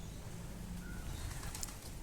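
Native pigeons in a loft give soft, low cooing over a continuous murmur of other birds.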